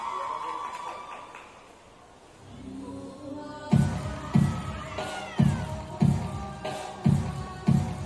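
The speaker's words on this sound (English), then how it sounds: "And what a welcome she is getting from the crowd." A crowd at an artistic swimming World Cup event in Montpellier cheers, rising from a low murmur into applause and shouts. Rhythmic music beats come in over the crowd noise.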